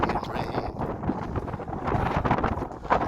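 Gusty wind buffets the microphone beside Ribblehead Viaduct on a breezy, showery day, a rough continuous rumble that swells and eases, with a voice faintly present underneath.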